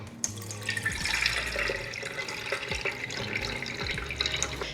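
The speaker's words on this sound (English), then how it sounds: "Our first layer of our juice is going in now." Juice from a Nama J2 juicer pours through a strainer into a container, a steady close trickle and splash with low thumps of handling underneath, no speech.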